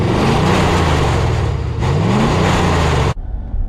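A 2020 Ford Super Duty Power Stroke diesel truck with dual exhaust revs loudly and close, its pitch sweeping up and down twice before it cuts off sharply near the end.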